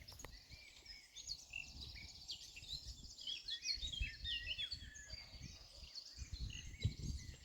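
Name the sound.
robin singing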